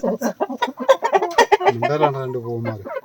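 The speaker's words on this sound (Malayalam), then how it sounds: "ഇത് പൂവൻ നിപ്പുണ്ട്, താഴെ വേറെ കോഴി നിപ്പുണ്ട്" Busy clucking of chickens and a rooster close by, with one long drawn-out call near the end, in quick irregular bursts.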